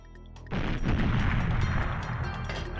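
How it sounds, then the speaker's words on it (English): A grenade explodes in the Xbox version of GoldenEye: after a brief quiet lead-in, a single loud, close blast bursts out and rumbles on for a couple of seconds. "Ooh, grenade."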